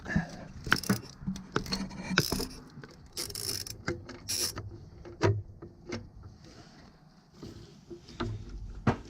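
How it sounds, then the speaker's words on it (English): Ratchet and socket turning counterclockwise to loosen an old spark plug, giving a series of close, sharp metallic clicks and clanks in irregular bursts with brief pauses between them. "I'm going to turn counterclockwise and begin to remove that spark plug"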